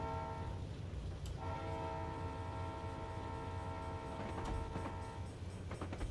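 A freight train horn sounds in Train Simulator Classic as a mainline train crosses a road crossing. The loud chord holds steady and sustained for the whole stretch over a low rolling rumble of the train.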